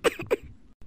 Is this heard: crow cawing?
no